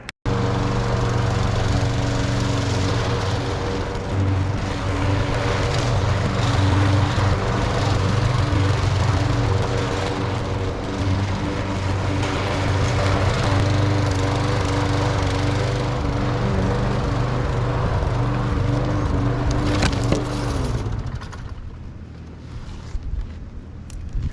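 A small gas engine, found completely out of gas, fires on the second pull and runs steadily and loudly with a constant drone and rattling harmonics, then cuts out near the end, leaving quieter background.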